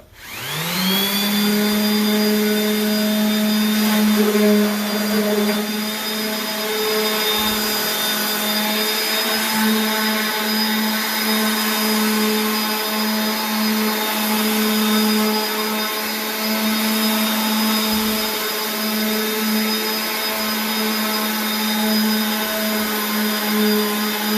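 A loud, continuous electric power sander whine on an epoxy countertop, holding a steady pitch for the whole stretch, close by, with no talking.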